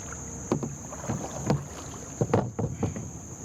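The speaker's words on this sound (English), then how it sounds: "I'm gonna paddle up kind of where I was going." Kayak paddle strokes dipping and pulling through river water in a rhythmic series of splashy swishes, close to the microphone, with light wind noise in the background and no talk.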